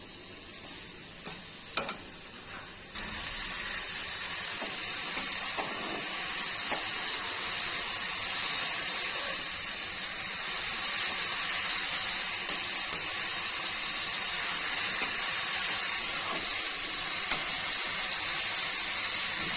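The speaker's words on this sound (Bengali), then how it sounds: "আলুগুলো ছেড়ে দিলাম, তাতে এখন বাঁধাকপিগুলো দিয়ে দিচ্ছি।" Potatoes frying in a pan with cabbage being added, giving a continuous steady sizzle and hiss, with a few faint scrapes and clinks near the start and scattered small ticks throughout.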